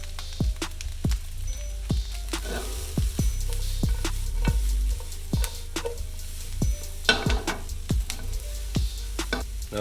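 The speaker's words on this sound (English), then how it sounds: "Now we're gonna add our Brussels sprouts. Now I'm going to add my thyme." Brussels sprouts and thyme sizzle in a hot pan, a steady crackling fry broken by frequent sharp pops and clicks of stirring, close and fairly loud with no talking.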